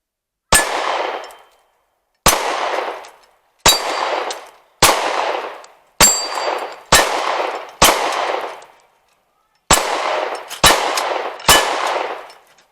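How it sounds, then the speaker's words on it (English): A Stoeger STR-9SC subcompact pistol fires ten sharp shots at steel targets outdoors, each crack followed by a ringing metallic clang, spaced unevenly with brief pauses between. "shoot these targets here"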